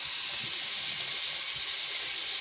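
Pork fat rendering in a pot for Hungarian bograch, giving a steady, dense hiss and soft sizzle with no breaks, close up and even throughout.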